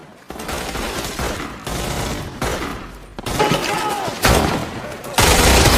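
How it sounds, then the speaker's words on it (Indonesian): Dense gunfire from a war film ambush rattles on in loud, continuous bursts with crashing impacts, cutting off and restarting abruptly several times across the span. "tiba-tiba pasukan Horyuchi menyergap dan menembaki mereka. Baku tembak pun tak terelakkan."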